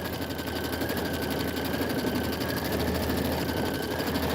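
An embroidery sewing machine stitches out a design on fabric, a steady, fast mechanical whirr with a dense needle rhythm running evenly throughout, close and moderately loud.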